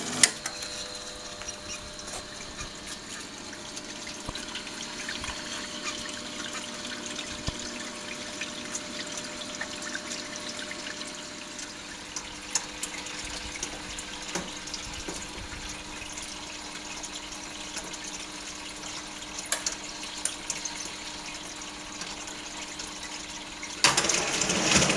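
A Brandt 532 Super washing machine draws water into its drum, a steady hissing, rushing flow that runs continuously at even level for the whole stretch, with a louder surge right at the end.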